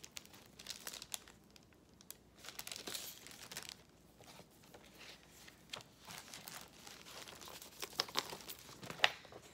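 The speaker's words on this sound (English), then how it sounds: "Sorry for the crinkling." Crinkling of plastic wrapping or packaging around a cross-stitch project, a steady run of crisp crackles and rustles up close that swell and fade, with no talk over it.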